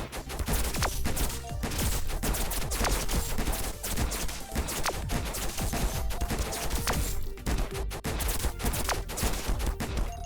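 An AK rifle in the action game Bronana fires rapid, relentless bursts. Dense, sharp shots pile up into a continuous loud barrage with brief gaps, and crashing impacts are mixed in.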